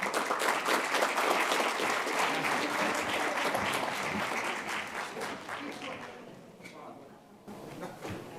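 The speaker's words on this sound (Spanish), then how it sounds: "a él lo vamos a recibir con un fuerte aplauso" Audience applause welcoming a panel host at a hydrogen energy conference in Chile, loud and dense clapping at first that tapers off into scattered claps near the end.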